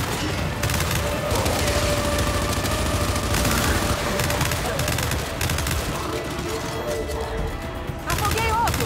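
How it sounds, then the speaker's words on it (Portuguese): Rapid bursts of gunfire in the co-op campaign of the video game Gears 5, loud, repeated automatic shots with booms, while a player talks excitedly over the action. "tô dando uns tiros meio louco aqui"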